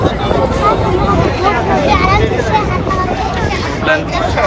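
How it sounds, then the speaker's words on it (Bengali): A boat on the muddy Brahmaputra river near Umananda island, heard as a steady broadband engine and water rumble mixed with wind buffeting the microphone, with distant voices and crowd murmur throughout. "ওদিকেও বোট চলছে ওই যে"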